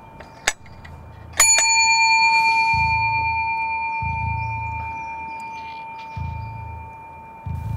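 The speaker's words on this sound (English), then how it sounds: "as the pellet strikes it will hit the little button on the top of the reception bell" An air rifle pellet strikes the button of a reception bell mounted as a DIY target on treated wood, giving a sharp tap then a bright ring that sustains and slowly fades, over low intermittent background rumble.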